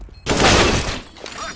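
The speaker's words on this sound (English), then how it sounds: "Throwing a flashbang." A flashbang grenade detonating in the video game Counter-Strike: a sudden loud burst after a brief quiet lead-in, followed by a bright, ringing wash that slowly fades with faint trailing noise.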